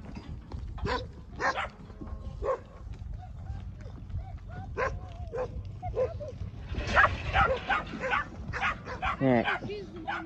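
A puppy on a cattle ranch with cows nearby yips, barks and whimpers in quick bursts close by, with high whines between barks and human voices talking underneath.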